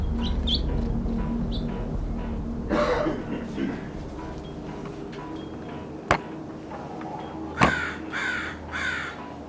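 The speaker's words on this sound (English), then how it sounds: "The birds are freaking out." Crows caw repeatedly in an agitated outdoor chorus, several harsh calls near and far over steady background noise, with people talking intermittently.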